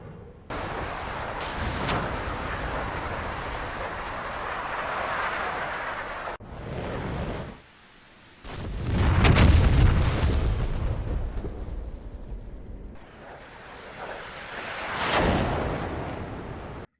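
A Kh-25ML laser-guided missile fires from an Su-25T's wing pylon in a DCS flight simulation, a long roaring rush of launch noise swelling to a deep, loud boom midway and trailing off before a second surge.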